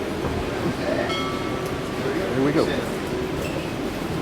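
The Palm Springs Aerial Tramway cabin rumbles and hums as it moves, with faint clinks and creaks, under people talking close by.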